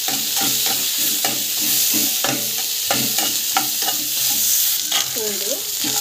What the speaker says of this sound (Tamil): ஸோ ஆனியன், மிளகா, நல்லா வந்து வதங்கட்டும்.